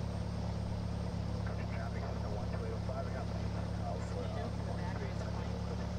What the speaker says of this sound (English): here we are beginning to taxi out from the hangar at Crookston Airport